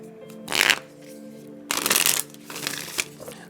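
A deck of moon oracle cards is shuffled in three quick riffling bursts, close and crisp, with short pauses between them.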